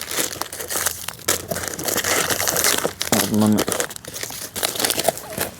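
Loud crinkling and rustling of a plastic travel-food packet being handled close up, with brief pauses and a short voiced sound partway through.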